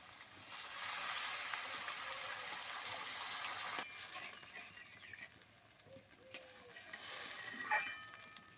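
Water goes into a pan of well-fried curry spices and oil for an eggplant and egg dish, setting off a loud, steady sizzling hiss that eases and bubbles unevenly as it settles.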